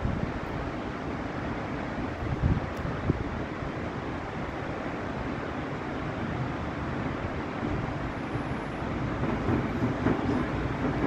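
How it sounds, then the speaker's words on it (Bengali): A waterfall pouring in the cold mountains of Kashmir, a constant rushing roar of water that stays even and unbroken, with occasional faint knocks over the steady flow. "ঝর্ণা প্রবাহিত হচ্ছে।"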